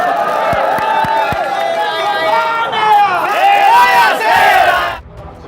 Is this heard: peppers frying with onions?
no